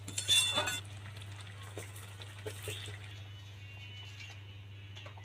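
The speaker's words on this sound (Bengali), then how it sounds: "চিনিটা দিয়ে কিছুক্ষণ নেড়ে চেড়ে দেবো।" A spoon stirs sugar into boiled potatoes and soaked chickpeas in a pan, with a burst of metallic clinks and scrapes at first, then sparse faint taps over a steady low hum, no talk.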